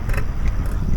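Brief engine and road rumble of a car driving steadily in manual fourth gear, a continuous close drone with faint mechanical whirring.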